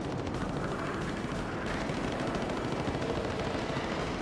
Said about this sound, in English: A flight of four streaks in, lobbing cannon shells at long range before any of the Mustangs can engage.